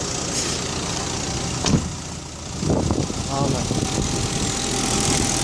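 A VW Passat 1.8 turbo engine idles with a steady low hum and rumble at close range, and someone speaks briefly over it.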